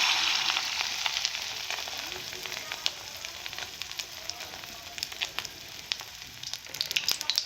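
Fish roe pakoras sizzle and crackle in hot oil in a wok, a steady bright frying hiss with scattered pops throughout.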